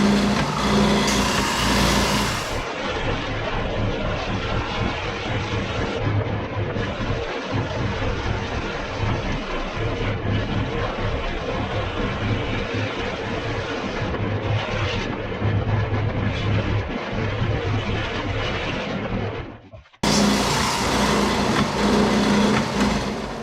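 A table sander touches up freshly cut sheet metal for a custom hood molding, giving a loud, steady whirring grind that runs almost unbroken and drops out briefly near the end before resuming; no voices.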